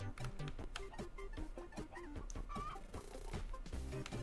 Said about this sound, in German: 7 Hühner.